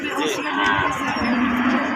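At a livestock market for dairy cows and calves in Raniganj, Dinajpur, a cow gives a sustained, nasal moo lasting about two seconds, close by, amid the talk of people nearby.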